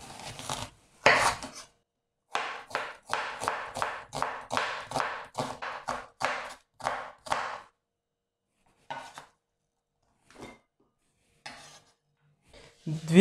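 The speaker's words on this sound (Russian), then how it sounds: "Нарежу лук перьями." A knife slices an onion into thin strips on a cutting board, a quick run of about a dozen crisp, evenly spaced chops, then a pause and a few scattered single cuts, close and clear with no talk.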